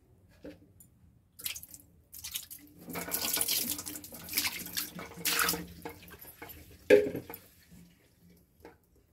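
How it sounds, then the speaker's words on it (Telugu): Running water from a tap while several brushes are washed, coming in splashy bursts between quiet gaps, with scrubbing and a couple of sharper knocks near the end. "ఇప్పుడు క్లీన్ చేద్దాము కొంచెం వాటర్ వేసి."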